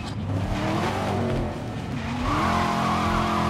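A racing car engine in Need for Speed Most Wanted (2012) drones steadily, then climbs in pitch as it revs higher, with a hint of tire squeal, loud and continuous.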